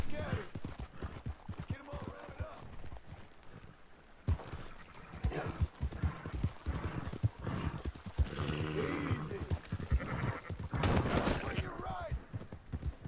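Horse hooves clip-clop in Red Dead Redemption 2 gameplay, an uneven galloping patter with occasional whinnies and bursts of gunfire, while characters talk over the action throughout.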